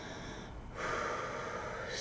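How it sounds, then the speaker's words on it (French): A person takes one deep breath in, a soft, close, airy intake that grows fuller partway through and carries on steadily to the end. "Prenez une grande respiration."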